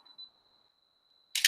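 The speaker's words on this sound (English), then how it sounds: "So if I press the shutter," A camera shutter on a 2-second self-timer fires once with a short, sharp double mechanical clack, preceded by a faint steady high beep from the timer in a quiet room.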